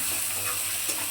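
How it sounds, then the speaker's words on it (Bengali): Onions fry in a pan with a constant bright sizzle, close and steady throughout the brief moment. "পেঁয়াজটা বেশ ভালো করে লাল লাল করে ভেজে নেব।"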